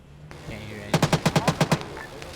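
.50 cal machine gun fire in a military video game: a short burst of about eight rapid, evenly spaced heavy shots, loud and close after a brief rumbling lead-in.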